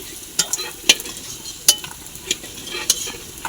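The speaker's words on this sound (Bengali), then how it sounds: "খেসারির ডালের বড়ি আমি এবার ভেজে নেব" Homemade khesari lentil bori fry in oil over a strongly burning stove, a close sizzle punctuated by sharp clicks and taps of a spatula stirring against the pan at irregular intervals.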